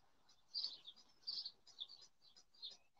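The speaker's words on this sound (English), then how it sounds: "The birds, the birds are singing. You hear them birds out there?" Several birds singing outdoors on a sunny day, bright chirps and short warbled phrases repeating in bursts, fairly faint and distant, with no talking.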